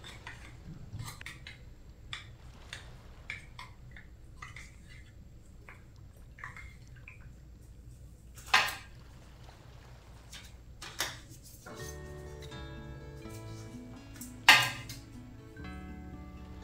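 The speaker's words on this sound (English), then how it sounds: "You want to stir gently, but you want to get that mixed." Paint being stirred in a can for a furniture makeover with Heirloom Traditions paint, giving soft intermittent scrapes and light knocks of a stir stick against the metal can, up close and quiet, with a few sharper clinks.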